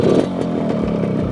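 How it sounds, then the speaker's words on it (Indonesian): Restored Yamaha RX 100 two-stroke motorcycle idling after starting, a close, steady, crackly engine putter with a rapid uneven beat, heard on its own without talk. "gue pengen dengerin ke kalian dulu bagaimana motor ini ketika dinyalain"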